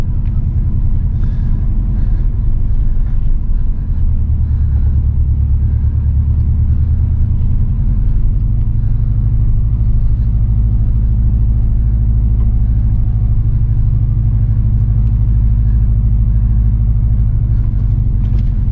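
An old budget Subaru WRX driven as a rally car, its engine giving a constant deep rumbling drone from inside the cabin, steady and loud, with the pitch shifting slightly as it pulls.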